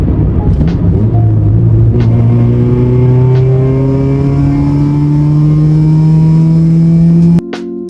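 A Honda Civic engine revs up in one long, smooth climb, loud and close, its buzzing drone rising steadily before cutting off abruptly near the end.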